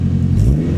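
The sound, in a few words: turbo Honda Integra DC5 engine revving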